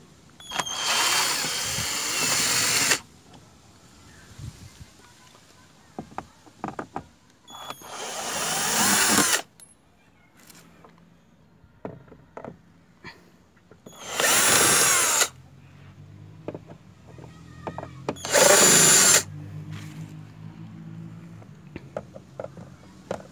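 A cordless power screwdriver removes screws from the door panel of a Fiat Tempra, whirring in four loud, separate bursts of a few seconds each, with quiet clicks and handling noises between them.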